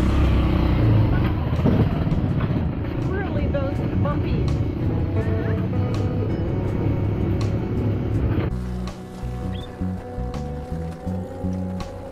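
A passenger ride in a motor vehicle on a road near the beaches of Palomino, Colombia, with a steady engine and road rumble, a gear or speed change partway through, and people talking over it.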